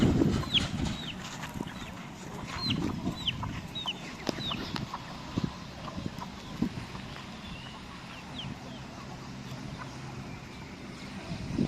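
Young fighting-breed rooster chicks, about seven months old, clucking and calling at a poultry farm, with repeated short calls scattered over steady outdoor background noise and occasional knocks.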